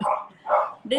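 A dog barks twice in quick succession, short and fairly close, with a third bark starting as the moment ends.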